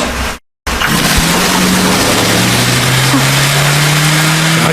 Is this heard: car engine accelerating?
yes